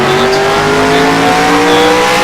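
A Formula DASCAR race car at full throttle on the Daytona Road Course, heard loud from onboard, its engine revving hard with rising and shifting pitch through a short burst of acceleration.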